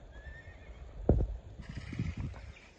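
A horse offered for sale neighs loudly and close by, a rising whinny with shaky breaths after it, over faint background noise.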